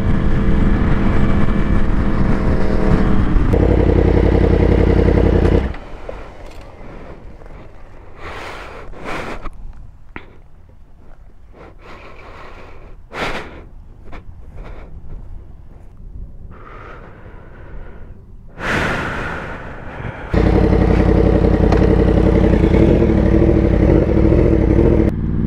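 A Yamaha R1 sport motorcycle riding along, engine droning loud and close for several seconds, dropping to quieter rattles and clatter, then the engine roars back up near the end.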